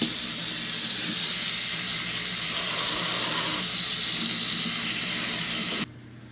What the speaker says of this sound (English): I have the broccoli washed.